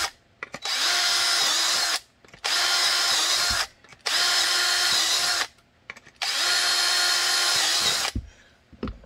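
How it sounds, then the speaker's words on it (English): A power drill bores holes through a drill guide in a workshop, four loud sustained whirring runs of about one to two seconds each, separated by short pauses with small clicks and handling noises. "And I'll go ahead and drill those."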